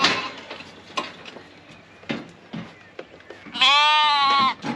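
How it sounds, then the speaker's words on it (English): Suffolk sheep bleat in a livestock handling setting, with a loud, sustained wavering bleat near the end after several short scattered knocks and thumps of animals and equipment. "This is the last Suffolk sheep in."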